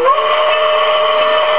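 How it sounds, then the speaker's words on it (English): A loud, steady switcher locomotive horn sounds continuously, a bright sustained tone with a breathy hiss, close and unbroken throughout. "How do you make the whistle go?"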